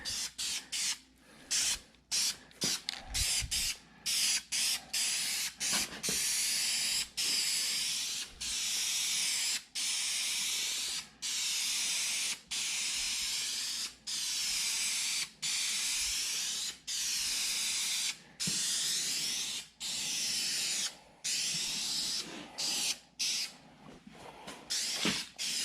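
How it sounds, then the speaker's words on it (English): Spray paint hisses from an aerosol can in repeated bursts of varying length, close to the microphone, with short pauses between sprays. "If we give her a shot of spray paint every oil change,"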